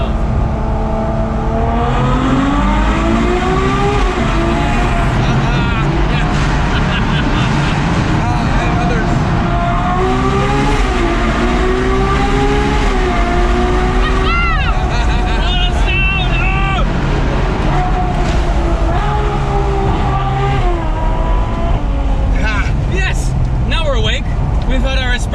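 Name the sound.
Ferrari 812 Superfast naturally aspirated V12 engine in a tunnel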